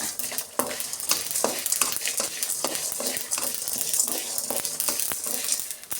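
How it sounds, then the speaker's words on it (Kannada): Sesame and coriander seeds fry over low heat in a pan for Karnataka-style raw banana palya, crackling and popping steadily throughout with dense, sharp sizzling and occasional louder pops, close and alone. "ನೋಡಿ ಚಿಟ್ಪಟ ಅಂತ ಸಿಡಿತಾ ಇದೆ ಈಗ"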